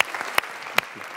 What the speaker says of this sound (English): Let's please applaud for Mr. Pedersen, who's also leaving us.